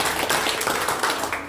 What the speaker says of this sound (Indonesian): Kita kasih tepuk tangan dulu buat Tuhan Yesus